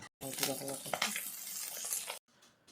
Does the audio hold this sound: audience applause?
no